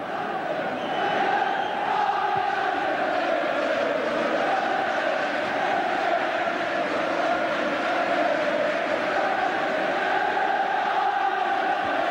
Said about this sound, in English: The sound of the crowd tells the story here. Jubilation at Old Trafford.